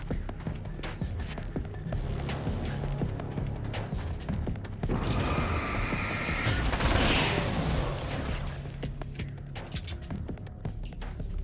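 An Uzi fires in Alan Wake's American Nightmare, loud bursts of rapid automatic gunfire over a dense game soundscape, with a stronger blast of noise in the middle.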